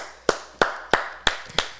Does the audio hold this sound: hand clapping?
yes